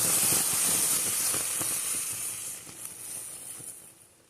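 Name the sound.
jelly boiling in a pot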